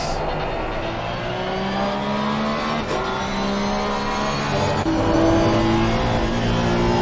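Porsche and Honda race cars in a sprint race at an Indy winter series round, engines revving steadily and shifting pitch as they run close together, loud and continuous.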